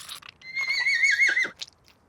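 A baby horse in an adult cartoon lets out a loud, close, high whinny lasting about a second, followed by a few short crunchy clicks in otherwise quiet surroundings.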